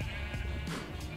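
Sheep bleating in a video game, a single faint bleat rising briefly over a steady wash of game ambience and music, with no talk over it.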